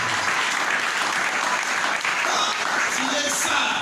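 A church congregation applauds their God in sustained, dense clapping that fills the whole stretch, steady and fairly loud with no pause.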